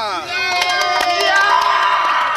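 Teammates on a bus cheer and shout excitedly as a player's name is called during an impromptu karaoke session, a dense burst of bright voices and whoops filling the cramped space.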